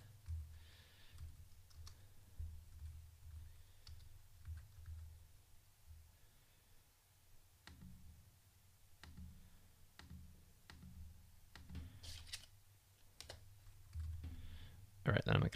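Clicky keystrokes on a computer keyboard while credit card details are entered during setup of a self-hosted WordPress blog, arriving in short irregular bursts with pauses, close and moderately quiet, and a voice talks in places.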